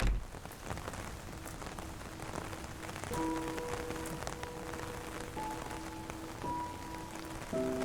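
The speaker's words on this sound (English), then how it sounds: "so it's still raining" Video game rain falls steadily as a dense, even hiss, soft and continuous, with faint game music tones entering partway through.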